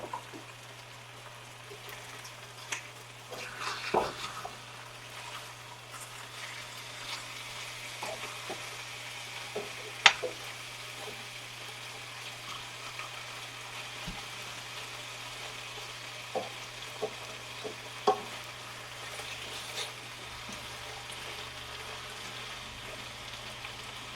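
Meat sizzling in a pan with butter for breakfast, a steady crackling fry with scattered sharp pops and spits throughout, close and continuous under a low steady hum.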